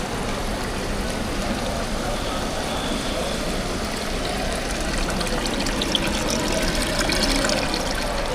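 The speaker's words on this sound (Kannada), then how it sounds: "ಇದು ಈ ರೀತಿ ನೀರು ಬರುತ್ತೆ ಇದರಲ್ಲಿ" Water flowing steadily out of a displayed product at a market stall selling mango and jackfruit, a continuous close trickle and splash heard alone throughout.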